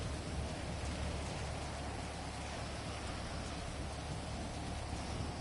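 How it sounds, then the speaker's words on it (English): Steady rain pours down at a beach in GTA 5, a dense, even hiss of drops at moderate volume that runs alone without a break. "Why is it that it always rains when we get to the beach?"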